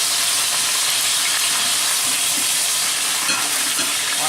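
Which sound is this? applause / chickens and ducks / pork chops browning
pork chops browning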